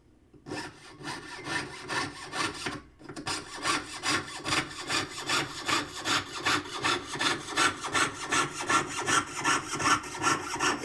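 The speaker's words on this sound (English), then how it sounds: "Remember when you're sawing to use the entire length of the saw blade" A hand saw cuts through wood in steady, rhythmic back-and-forth strokes, loud and close, after a brief pause near the start; long even strokes run continuously with no talking.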